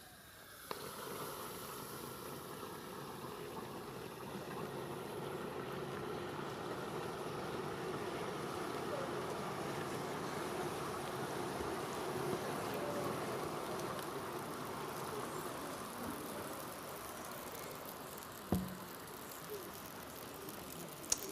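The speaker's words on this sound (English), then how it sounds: "I'll pour the cold liquid nitrogen into the hot water" Liquid nitrogen poured into hot water boils off in a steady, roaring hiss that rushes on for about twenty seconds at an even level, ending with a couple of faint knocks.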